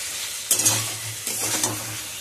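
Fish pieces go into a pan of spiced Bengali curry paste, giving a soft sizzle with two bursts of stirring and scraping close up, no talking.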